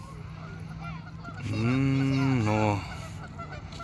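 Geese near a pond where children are fishing give one loud, nasal honk lasting about a second, close by, set against soft background noise, with a short spoken word nearby.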